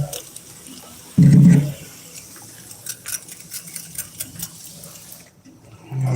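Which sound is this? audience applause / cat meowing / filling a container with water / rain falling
filling a container with water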